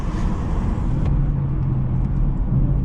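An Audi S4 drives past with a steady road roar and a low engine hum, followed by a fainter passing whoosh and ongoing traffic noise.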